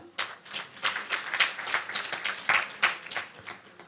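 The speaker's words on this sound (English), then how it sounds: "A round of applause to them." Audience at a live Paediatric Association of Tanzania presentation clapping, a fairly faint, steady patter of many hands with sharper individual claps standing out, no voices.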